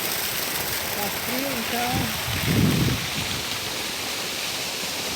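Abundant water flows outdoors at a natural spot in Quipapá, Pernambuco, a steady loud rushing wash throughout, with someone speaking briefly over it partway through.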